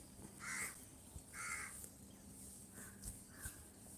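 A crow caws repeatedly outdoors in a few separated, moderately loud calls with a steady low hum underneath and no talking.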